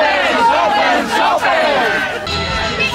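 Sailors perched on the masts of a tall ship at the Tall Ships Races in Szczecin shout and cheer together, a loud, sustained crowd roar with rising and falling yells, close and continuous.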